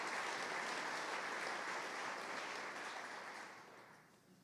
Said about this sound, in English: would you please give them a warm round of applause and a thank you for all that they do